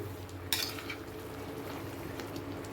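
Masala brinjal gravy stirred in a pan, one sharp scrape of a spoon against metal followed by soft continuous bubbling and sizzling, close and quiet, no voices.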